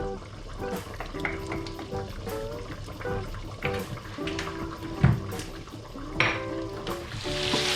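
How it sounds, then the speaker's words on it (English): Lamb searing in oil in a frying pan, a soft steady sizzle with scattered crackles and clinks of utensils, heard quietly beneath a voice talking. "your lamb wants to be searing in the pan for 3 minutes"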